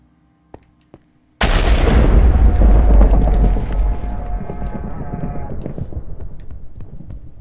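Turrets in the Minecraft game open fire after a couple of faint clicks, unleashing a loud, sustained barrage of booming, rattling shots that gradually thins into a rapid patter of smaller hits.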